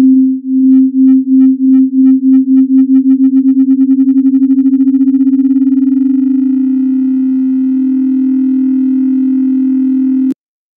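Two sine tones: a steady pure tone pulses quickly at first, then as they move apart the beating speeds up into a continuous rough, buzzing tone that holds before cutting off abruptly.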